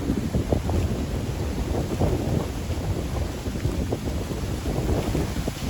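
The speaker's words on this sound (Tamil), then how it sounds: "அந்தளவுக்கு காற்று வீசிக்கொண்டிருக்குது" Strong wind roars and buffets steadily through a coconut grove in Navatkuli, Jaffna, with loud microphone rumble and gusty, continuous noise throughout and no talking.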